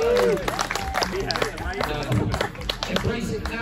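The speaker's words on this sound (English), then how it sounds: "Let's give Mike another big, big, big round of applause" A crowd at the Radfest 22 awards claps and cheers for a second-place finisher, a dense patter of hand claps running throughout beneath a loud announcer's voice.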